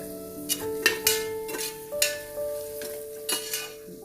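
Kanthari chilies and curry leaves frying in a pan, with a steady sizzle broken by several sharp stirring scrapes and clinks at an uneven rhythm, close and moderately loud, no talking.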